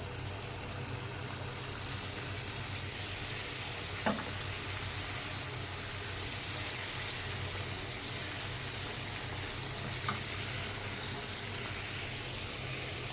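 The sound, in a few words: fish frying and sizzling in spiced oil for fish curry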